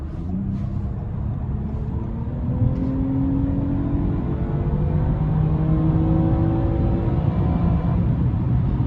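A 2024 Toyota Camry XSE V6 accelerating with an automatic transmission, its engine note climbing steadily in pitch as it pulls through the gears, loud and continuous from the cabin.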